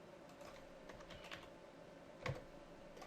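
Quick keystrokes tapped on a computer keyboard while entering a command in a terminal, a soft irregular run of clicks with one sharper, louder press near the end, close by and with no voices.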